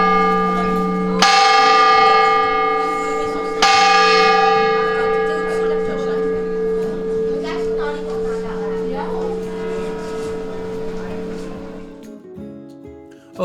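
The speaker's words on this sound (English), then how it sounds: "We made it to the top of the tower to check out the 24 bells just in time" Large bells of the Sevilla cathedral tower ringing loud and close, with strong new strikes near the start and again a few seconds in, tones ringing on and decaying, with crowd murmur underneath.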